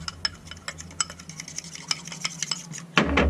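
Egg being whisked in a bowl with a utensil for wrasse nuggets: a quick run of light clicking taps against the bowl, then a louder, denser rush of clattering at the end.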